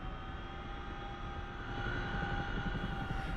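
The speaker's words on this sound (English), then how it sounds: "Give the engines a moment to come up to speed" Twin turbine engines of a CH-47 Chinook helicopter spooling up in the DCS flight simulator, a continuous dense whine and roar that grows slightly louder partway through, steady and close.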